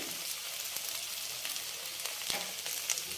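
Ivy gourd frying in a pan with turmeric, a soft, steady sizzle with faint crackles and occasional stirring clicks, quiet and close, with no talking.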